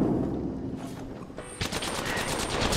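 Rapid automatic gunfire rattles in a dense fusillade during an Apex Legends match, loud and close, with a burst of sharper shots starting partway through.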